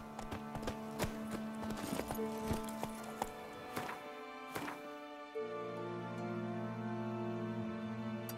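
Roach, a horse in The Witcher 3, clip-clops in steady rhythmic hoof thuds up close, later joined by a sustained tonal game drone with scattered soft knocks.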